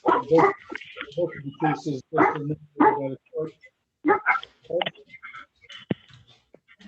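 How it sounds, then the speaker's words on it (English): Dog barking intermittently in the background of a court hearing held over a remote call, a few short yips under steady clear speech. "that was my dog"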